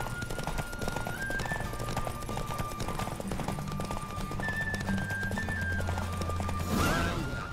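Horse hooves clip-clopping at a gallop during a race in The Witcher 3: Wild Hunt, a steady fast rhythm with an occasional whinny, over game music and ambient sound, swelling near the end.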